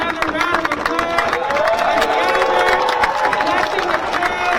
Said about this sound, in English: Let's give Robert Hayes another round of applause.